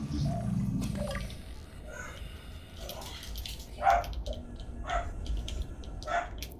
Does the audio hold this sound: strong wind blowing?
no